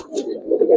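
Giribaz pigeons at a pigeon farm give one brief, low, throaty coo close by.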